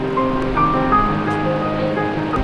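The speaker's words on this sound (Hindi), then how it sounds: "7 धाराएं मिलकर बनाती हैं इस झरने को।" Seven Sisters Falls, a waterfall formed by seven streams in Cherrapunji, Meghalaya, roars as a steady, dense broadband rush of falling water that stays loud and constant throughout, with no voices.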